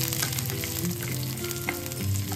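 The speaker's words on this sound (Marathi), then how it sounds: "आता इथे आपण गॅस बंद केलेला आहे आणि हे परतून घेतोय आपण।" Garlic cloves, cashews and cumin sautéing in a hot pan with the heat turned off, a steady close crackling sizzle with light stirring running through. No voices.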